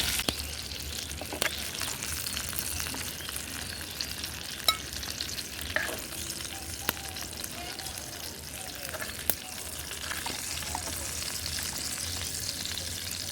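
Eggplant and egg fry in a pan, giving a steady close sizzle throughout, broken by occasional sharp clicks and scrapes of a spatula, with no talk.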